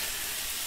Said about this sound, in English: I'm just going to let all this cook together.